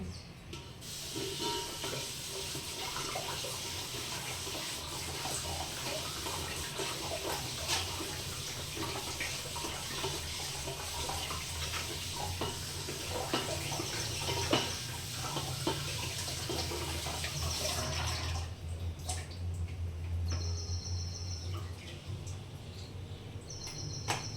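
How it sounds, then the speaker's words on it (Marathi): Fresh green fenugreek leaves rinsed under a running kitchen tap make a steady, soft hiss of flowing water for most of the stretch, changing near the end to a thinner trickle with small splashes. "मेथी हिरवी हिरवीगार आहे ना छान आहे मेथी तर चला आता हिला स्वच्छ धुवून घेते"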